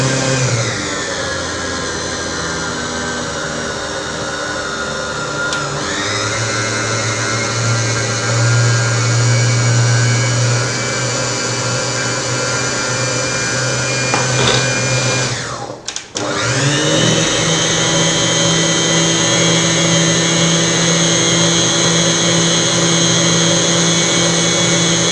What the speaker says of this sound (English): So I will start my mixer in a low speed.